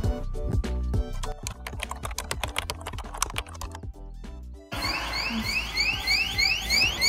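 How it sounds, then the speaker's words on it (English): A hotel room door lock gives rapid electronic key-press clicks, then a loud warbling alarm that sweeps up and down when the door is not locked properly. "there's an alarm if you don't get to lock it properly"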